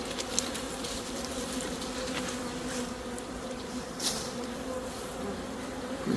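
Honey bees drone steadily around an open hive during a hive transfer in hot weather, a continuous close buzz with individual insects passing near, no talking.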